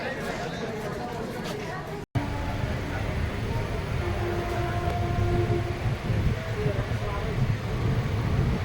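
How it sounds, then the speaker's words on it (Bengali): Tatanagar-Asansol Express pulling out of Burnpur station, a continuous low rumble of rolling wagons with faint tonal hums under steady passenger chatter on board. "ট্রেন এক্ষুনি ছেড়ে দেবে এখান থেকে ডিপার্চার আপনাদের দেখাচ্ছি"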